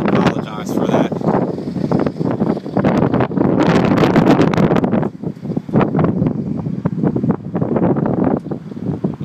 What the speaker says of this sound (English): I'm sure you're going to hear the wind in this video